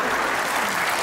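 An audience at a televised comedy show claps in a dense, loud, steady burst of applause that fills the room.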